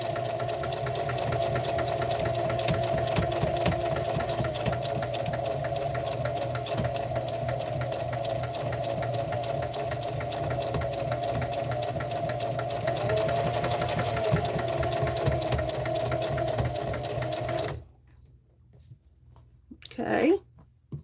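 A sewing machine runs steadily for about eighteen seconds, stitching a Dollar Tree dish drying mat into a sewing machine pad, with a continuous loud motor hum before it stops and a brief quieter handling sound follows.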